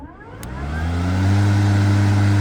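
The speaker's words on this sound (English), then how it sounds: "Start the engine." An EGO lawn mower with a composite deck fires up and settles into a loud, steady running drone that builds in strength, with no voices.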